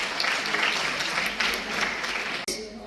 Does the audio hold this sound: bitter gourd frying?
no